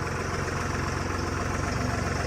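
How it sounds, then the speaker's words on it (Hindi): A road roller and a tractor idle side by side before towing a bulldozer, a steady low diesel rumble with an even throbbing pulse, close and unbroken, with no voices. "बुलडोजर को लेके रोड रोलर के साथ टोचन करने के लिए"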